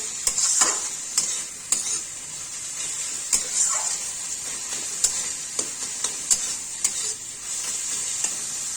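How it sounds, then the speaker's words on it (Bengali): Steady hiss of beto greens frying in a hot pan, with repeated clinks and scrapes of a spatula stirring at close range. "একদিকে আমাদের বেটে শাক ভাজা হচ্ছে"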